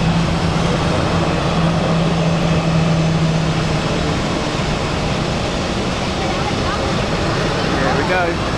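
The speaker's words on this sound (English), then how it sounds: "The A321 on runway 16 is currently lining up." Continuous broadband roar of an Airbus A321 jet idling while lining up on runway 16 at Zurich Airport, a dense steady rumble with wind-like noise, no pauses.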